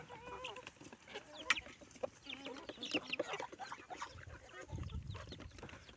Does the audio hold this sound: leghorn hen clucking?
yes